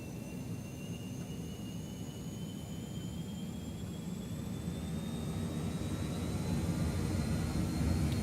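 Simulated airliner jet engines spool up for takeoff in Microsoft Flight Simulator 2020, a continuous roaring whine whose pitch climbs steadily as it grows gradually louder over several seconds.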